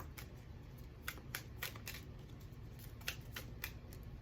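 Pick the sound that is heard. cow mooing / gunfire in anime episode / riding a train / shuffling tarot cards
shuffling tarot cards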